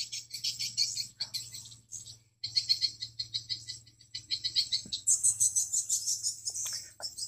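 Rapid, high-pitched swiftlet calls repeat in fast trills from a loudspeaker at a swiftlet house, played at medium volume, with a low electronic hum beneath and a brief pause partway through.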